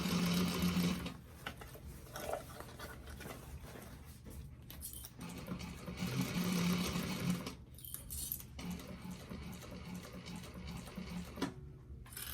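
Sewing machine stitching a bag in a home workroom, humming in steady runs broken by short pauses to turn the fabric with the needle down, close and moderately quiet with no talking.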